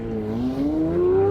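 A modified Subaru launches hard off the line in a race against a Lamborghini, its engine note climbing steadily in pitch as it accelerates, loud and close throughout, with no talking.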